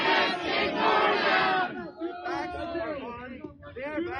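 A crowd of protesters chants loudly in unison, then breaks into overlapping shouts and voices.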